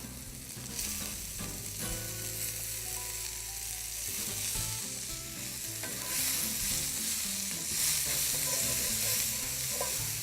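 Hirabara spinach sizzling and being stirred in a pan with mushroom steak, giving a steady, dense hiss with crackles and the scrape of a utensil, close and constant throughout.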